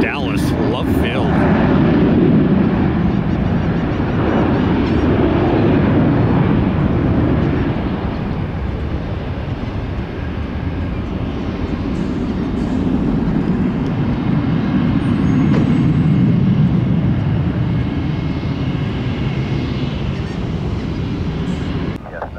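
Southwest airliner departing for Dallas Love Field, a loud, sustained jet engine roar that swells and holds for over twenty seconds, rumbling and broad without letup.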